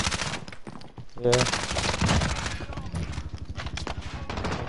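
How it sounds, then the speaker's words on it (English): Automatic gunfire in a Call of Duty match, with rapid bursts of shots, loud and close, interrupted by brief pauses while a player briefly speaks. "These guys have like 100 ammo. They keep shooting."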